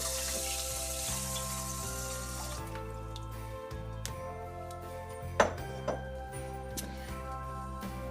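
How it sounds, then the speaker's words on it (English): Water running into a rice cooker that already holds five cups of sweet rice, a steady close hiss and splash continuing throughout, with a couple of small knocks near the end and no talk. "So now I want to add 5 cups of water."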